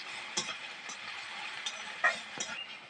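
Chopped onions frying in a pan with a soft continuous sizzle, punctuated by several sharp clicks and scrapes of a utensil stirring, close and moderately quiet.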